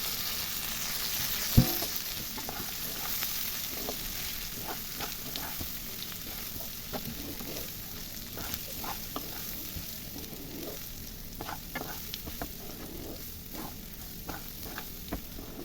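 Rice and lentils fry for bhuna khichuri with very little water, giving a soft continuous sizzle broken by scattered scraping and stirring clicks from the pan, close and moderately quiet, with no talking.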